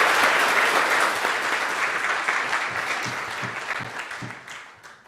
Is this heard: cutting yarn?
no